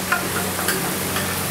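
Tomato and onion gravy frying in a pan at a dhaba kitchen, giving a steady close sizzle with faint stirring ticks for a brief moment, no voices.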